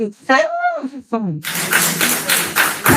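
An audience claps at a township meeting, a burst of many hands clapping up close in uneven waves that starts after a voice and continues loudly to the end.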